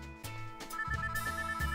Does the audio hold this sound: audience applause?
no